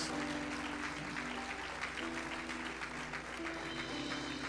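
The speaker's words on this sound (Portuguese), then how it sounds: "Um aplauso para Deus!" A church congregation applauds during a service, a dense, steady wash of clapping that holds for several seconds over sustained musical tones.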